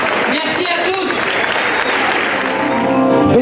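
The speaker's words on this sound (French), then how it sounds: "Applaudissez le comité des fêtes qui fait un travail remarquable pour nos festivités." An outdoor festival crowd at the 2019 Fête de Bessan breaks into loud, dense applause that holds steady throughout, with voices carrying over the clapping.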